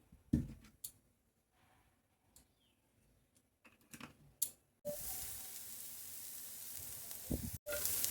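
A little oil heats in a hot frying pan: a few soft clicks and knocks, then a loud, steady hiss of sizzling starts midway and carries on close up to the end.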